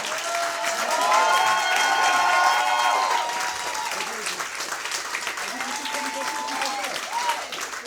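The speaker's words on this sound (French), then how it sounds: "on les applaudit encore" An audience applauds performers at the close of an improv theatre workshop show, a dense wash of clapping with some cheering that swells in the first seconds and then continues steadily, with a voice speaking over it near the end.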